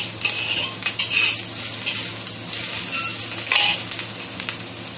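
Nasi goreng sizzling in a pan, a continuous close crackling fry with bright spitting bursts and occasional utensil scrapes and stirring, no talk.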